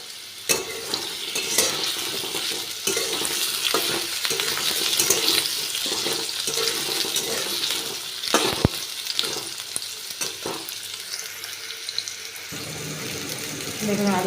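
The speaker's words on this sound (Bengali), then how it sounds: "আলুটা আগে একটু ভেজে নিচ্ছি" Potatoes frying in a pan make a loud, steady sizzle, with frequent clattering stirs and spatula knocks throughout.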